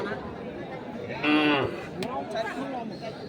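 Native-breed bulls at a busy cattle market in Setabganj, with one loud, drawn-out moo rising over the chatter of the crowd and a second fainter lowing call shortly after.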